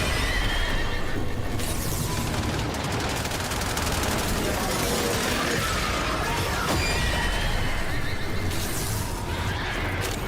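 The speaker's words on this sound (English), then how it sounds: "There be horses." Horses whinny and hooves clip-clop in the video game Warframe, loud and busy under a constant wash of game noise, with some burst-like gunfire sounds mixed in.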